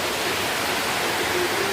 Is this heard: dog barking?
no